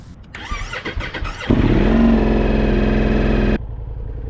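A Ducati Multistrada V4S motorcycle engine cranks with the starter on a jump pack, then catches and runs loudly and steadily, close up, before cutting off abruptly.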